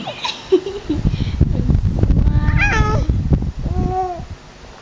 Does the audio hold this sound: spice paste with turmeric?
no